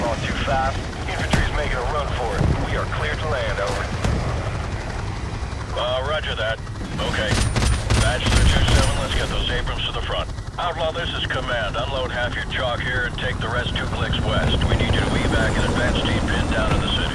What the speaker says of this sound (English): Chinook's landed.